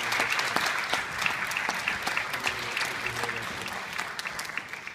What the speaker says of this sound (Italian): quindi chiedo di fare un applauso a Sergio Staino.